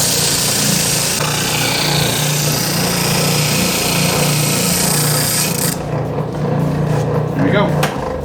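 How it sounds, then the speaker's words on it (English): A spindle sander runs steadily with a low motor hum while a wooden workpiece is smoothed against the drum, a broad continuous rasping that eases off toward the end with a few knocks. "go ahead and get this cleaned up on the spindle sander here"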